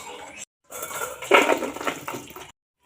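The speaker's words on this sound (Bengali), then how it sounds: "আলু আর ছোলা সেদ্ধ হয়ে গেছে এরপর আমি একটা ঝুড়িতে ঢেলে নেব" Boiled potatoes and chickpeas are tipped with their cooking water into a draining basket, a short burst of splashing and clattering framed by brief silences.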